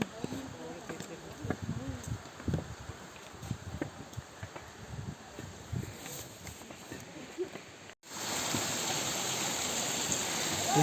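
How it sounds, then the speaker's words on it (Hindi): A cold mountain stream pouring down on the pilgrimage path to Shikharji: a steady rushing splash of falling water, first under footsteps and talking, then a loud, even roar at close range. "झरझर झरझर झर पानी गिर रहा है। पहाड़ में से पानी आ रहा है"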